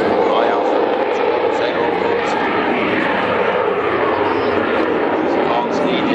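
Advanced jet fighter trainer with two Honeywell engines taking off at the Farnborough airshow, a loud broadband jet roar that holds steady throughout, with an announcer talking over it.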